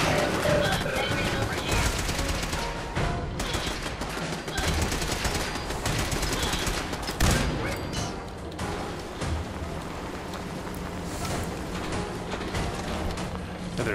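Gunfire in the video game Fallout 4 (Automatron), dense rapid bursts of automatic shots and mechanical clatter running nearly continuously, with someone talking intermittently over the fight.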